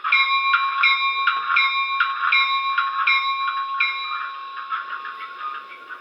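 A BLI Paragon 3 Warbonnet F7A model locomotive's sound-system bell rings in a steady repeating clang, each strike ringing briefly before the next, fading slightly toward the end.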